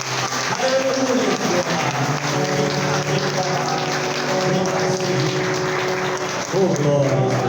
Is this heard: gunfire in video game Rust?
no